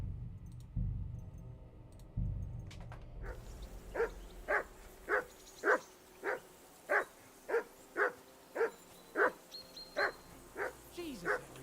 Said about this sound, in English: Can you get your dog to shut its beak?